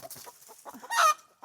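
A hen clucks agitatedly up close, a rapid series of short squawks rising into one louder, drawn-out cry.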